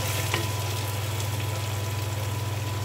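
Tomatoes frying in a pan with a little red chili powder, giving a steady close sizzle with a low continuous hum underneath and no talking.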